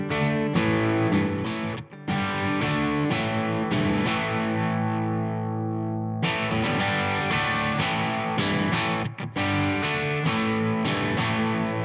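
Ibanez AZES31 electric guitar played through a Laney Lionheart Loudpedal with reverb added, a loud, full distorted tone of sustained chords and riffs with brief breaks, ringing on with no one talking.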